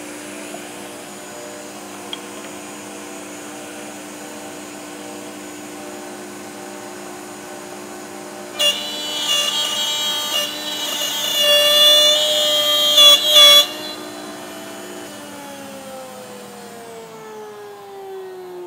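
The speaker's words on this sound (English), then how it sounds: "I'm gonna get to the end, I'm gonna shut it off and let the bit stop before I pull it back" A router with a dovetail bit running through a sliding dovetail joint in wood, a steady close whine that rises as the bit bites in mid-clip, then shuts off and spins down to a stop, with no talk.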